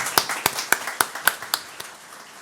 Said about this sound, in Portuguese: Uma salva de palmas para a Bruna, gente.